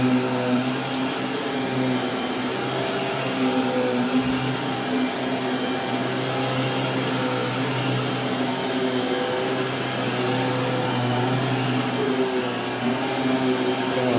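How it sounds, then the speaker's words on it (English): A vacuum cleaner runs continuously and loudly at close range, a steady dense whirring roar with a high whine and no pauses or talk. "I'm gonna let you guys go while I do this vacuuming"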